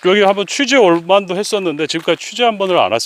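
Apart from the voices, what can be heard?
No everyday noises stand out.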